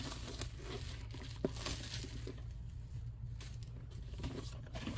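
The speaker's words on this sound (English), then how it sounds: "The cellophane or whatever it's called was stuck to me" Cellophane wrapper is torn off a Pokemon Scarlet & Violet Paldean Fates Elite Trainer Box, giving soft, faint crinkling and short tearing rustles in irregular bursts.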